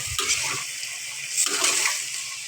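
Water is poured into a pan of sautéed curry to make gravy, a steady splashing pour with a brief lull midway, close and moderately loud with no talking.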